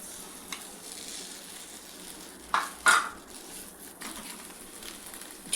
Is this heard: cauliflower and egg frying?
yes